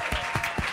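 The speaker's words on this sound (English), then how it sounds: "A round of applause for Jimmy" A live comedy-show audience applauds comedian Jimmy Dore with brief, steady clapping and a few louder thumps mixed in.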